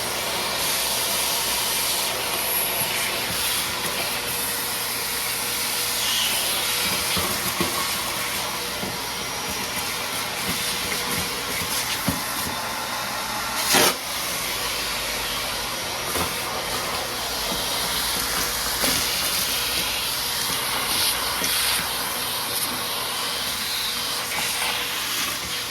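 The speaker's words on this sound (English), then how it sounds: "Let's get the vacuum over here and start vacuuming some stuff up." A vacuum cleaner roars steadily up close while sucking debris out of a Fox body car under build, with a constant hissing whine and occasional rattles and knocks as bits are pulled in.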